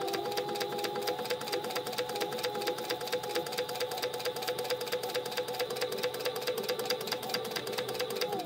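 A sewing machine backstitches a fabric pouch, its needle drumming in a fast, even stitching rhythm that runs close and unbroken from start to finish.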